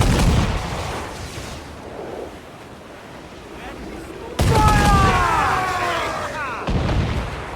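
Ship cannons fire in Assassin's Creed IV Black Flag, with two heavy booming blasts over rushing waves and wind, and voices shout commands between the shots.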